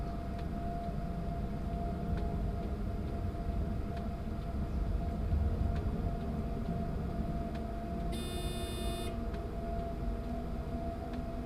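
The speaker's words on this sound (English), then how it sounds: "I just want to hear the train" Train running in Train Sim World 5 with the Expert 101 pack, a steady low engine rumble and rolling drone with faint periodic clicks of wheels and a brief high tonal alert near the end.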